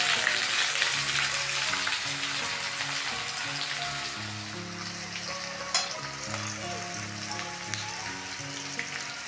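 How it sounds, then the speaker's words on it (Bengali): Onion, dried red chilli and bay leaf frying in hot oil in a wok, giving a steady dense sizzle with scattered crackles and pops throughout, close and fairly loud, with no voices. "এখানে কড়ার মধ্যে তেল দিয়ে দিয়েছি, এবার আমি শুকনো লঙ্কা, তেজপাতা দেবো ফোড়ন, পেঁয়াজটা দিয়ে দেবো"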